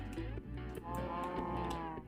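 A cow moos in Minecraft, a sustained lowing call with game background sounds running beneath it.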